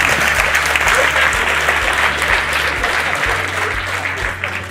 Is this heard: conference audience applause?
yes